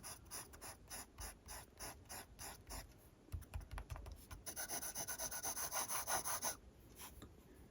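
A scratchy fountain pen nib drags across paper in a steady series of short, rasping strokes, quiet and close, turning into a denser run of continuous scratching toward the end.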